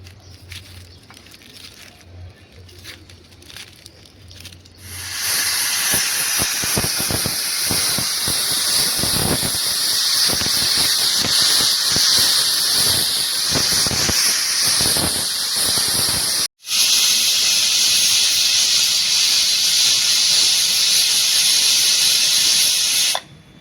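A pressure cooker steaming tuver (pigeon peas) for toatha lets out a loud, steady high hiss that starts suddenly after quieter kitchen sounds and runs continuously for many seconds, broken once by a brief cut.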